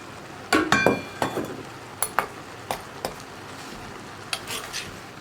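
A spoon stirring spinach and prawn curry in a metal pot, a handful of sharp clinks and scrapes against the pot's sides, spaced unevenly and close, over a faint sizzle, with no talk.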